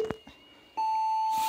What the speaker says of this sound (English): We'll start our race timer.